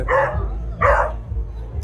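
Dogs barking at a dog race at the PetFed India pet festival: two loud, close barks about half a second apart, over a low background rumble of the crowd.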